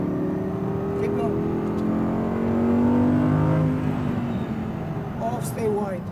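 An Audi R8 V10 rear-wheel-drive car on a race track at Speed Vegas gives off a steady engine drone that rises in pitch as it accelerates, loud and close, with a voice speaking over it.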